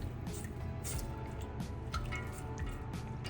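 One cup of heavy cream poured into a pan of sauce and stirred, giving soft close liquid drips and squishy sloshing throughout, with no talking.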